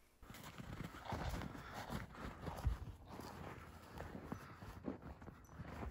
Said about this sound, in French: Quel est votre animal préféré? Le cheval.